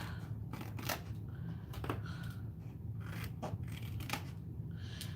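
Scissors cutting material while making book boxes, a series of crisp snipping cuts at irregular intervals, close and fairly quiet over a low background hum.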